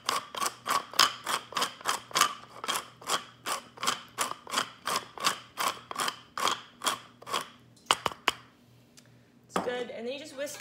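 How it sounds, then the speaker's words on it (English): An oversized pepper mill being twisted by hand in a kitchen, giving a long run of evenly spaced crunchy grinding clicks, close and crisp, followed by a couple of quicker turns and a brief voice. "I have the biggest pepper mill known to man."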